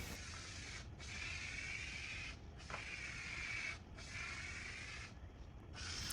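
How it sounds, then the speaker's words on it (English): Contact cement sprayed from an aerosol can onto the top of a Lane cedar chest and the back of its veneer: several faint hissing bursts of about a second each, separated by short pauses. "I'm using a spray contact cement here, and I used 2 coats of this"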